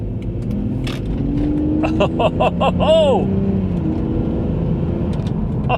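BMW Z4 pulling off and driving on the road, a continuous engine drone with rising revs under cabin noise, with brief voices and a sweeping whistle-like tone near the middle.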